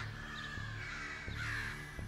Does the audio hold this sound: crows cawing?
yes